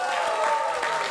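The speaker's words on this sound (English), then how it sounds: "Big round of applause for Kyle" Audience applause for a guest named Kyle on a comedy talk show, a dense, steady wash of clapping filling the room throughout, with some crowd murmur mixed in.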